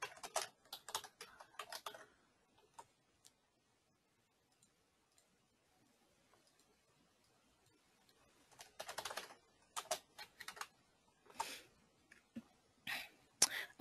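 Rapid clicking of computer keyboard keys as a workflow title is typed, in one short burst, then a pause, then a longer stretch of uneven keystrokes; close, fairly quiet, and with no talking.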